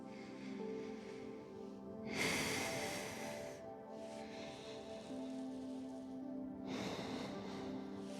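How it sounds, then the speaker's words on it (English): Slow nasal breathing during a yoga flow, two audible airy breaths through the nose a few seconds apart, close and soft over a quiet sustained background tone. "Breathing in through your nose and out through your nose."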